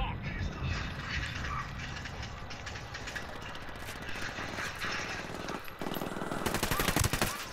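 Gunfire in the video game Ghost Recon Wildlands, bursts of automatic shots and sharp cracks spread throughout, with heavier firing toward the end, while someone talks over it.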